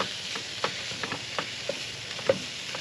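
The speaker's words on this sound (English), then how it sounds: "Get that in that hot pan. We're just gonna cook it up, break it all apart." Ground wild hog meat sizzling in a hot pan, with a spatula scraping and clicking in a loose, irregular rhythm as it is broken apart.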